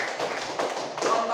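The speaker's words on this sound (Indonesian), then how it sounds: "Tepuk tangan buat Mbak" A classroom bursts into applause for a student, a dense patter of many hands clapping at close range, with voices mixed in.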